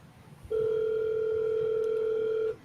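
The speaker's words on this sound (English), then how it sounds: "That's the big red phone." A big red telephone gives a steady electronic tone, one continuous beep held for about two seconds at moderate loudness, then cut off abruptly.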